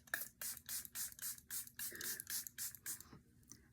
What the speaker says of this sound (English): This is the Airbrush Flawless Setting Spray.